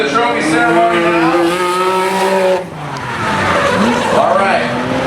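Formula Drift cars drifting, tires squealing loudly with rising and falling engine whine across a sustained slide, a brief dip midway before another car screeches in, with crowd or announcer voices underneath.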